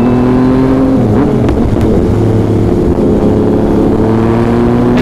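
A motorcycle exhaust roars loudly and close up, its engine pitch climbing and dropping as the throttle is blipped and revved.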